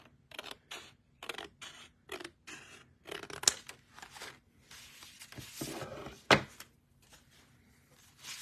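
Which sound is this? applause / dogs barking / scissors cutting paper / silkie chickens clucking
scissors cutting paper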